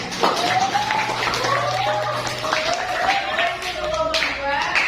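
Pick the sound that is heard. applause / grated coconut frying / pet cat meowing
applause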